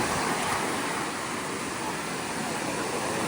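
Steady roar of Mediterranean sea surf at Alicante in the evening, mixed with gusting wind buffeting the microphone, continuous and loud throughout.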